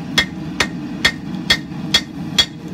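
Hammer blows forge a large hot steel tomahawk, made from a ball peen hammer, on an anvil: six sharp, evenly spaced ringing strikes about half a second apart, close and alone.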